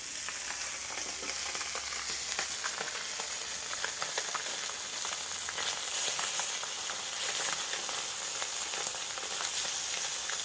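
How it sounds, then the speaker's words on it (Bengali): Small puti fish fry in oil with a continuous crackling sizzle and bright spitting pops that carry on for about ten seconds. It is close and steady, with no talking. "আমি মাছ কটা সব ভেজে নেব।"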